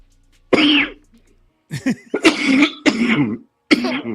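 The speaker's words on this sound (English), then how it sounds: "So with your dry ass coughs, man" A single harsh cough, then a cluster of three or four dry, raspy coughs in quick succession, loud and close with silence in between.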